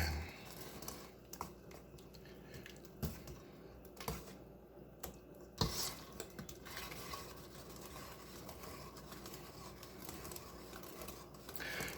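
Honeybun cake batter being mixed by hand after a cup and a half of milk is added, giving soft, steady stirring and scraping with occasional clinks of utensil against the bowl, close and fairly quiet.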